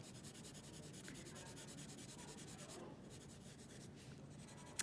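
Graphite pencil shading across drawing paper, a steady dry scratchy rubbing that continues without break, close and fairly quiet, with no talking.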